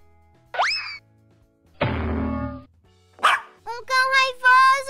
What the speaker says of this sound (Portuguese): Um cão raivoso tá me atacando!